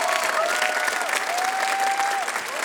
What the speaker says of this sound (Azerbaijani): Onlar üçün gürültülü alqış.